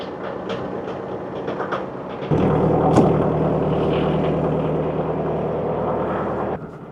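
A tractor engine in the snow of a Canadian winter catches and starts, then settles into a steady, loud, rumbling idle before it drops off near the end.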